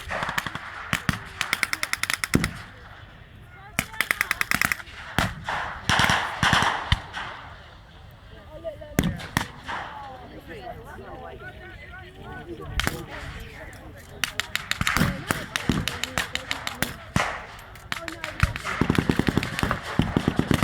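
Gunfire at a WW2 re-enactment battle crackles in repeated bursts of sharp rifle and machine-gun shots, some near and loud, others more distant, with someone talking between the volleys.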